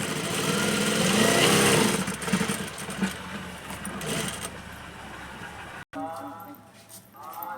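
A sewing machine stitches three sides of a cloth piece for a baby's cap, whirring in bursts with a sudden brief cutoff near the end, then a softer, uneven mechanical rattle.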